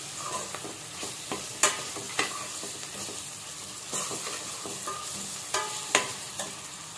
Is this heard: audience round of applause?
no